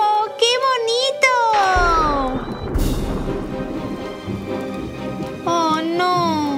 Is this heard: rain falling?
yes